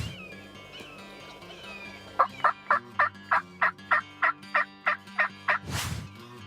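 Wild turkeys gobble and call, a rapid run of about a dozen evenly spaced loud notes ending in a long gobble, with softer calls beforehand.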